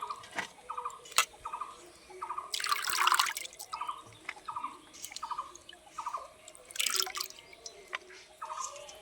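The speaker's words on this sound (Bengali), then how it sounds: "এরকম করে ছেঁকে নিচ্ছি।" Water drains from washed grated potatoes in a strainer as a string of close, regular drips and trickles, broken by two brief louder splashing pours, with no talking.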